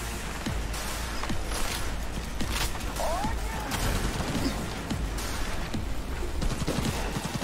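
Gunfire in the video game Cyberpunk 2077: repeated rapid shots and bursts layered over a busy combat din, sustained across the stretch, with a voice speaking intermittently underneath.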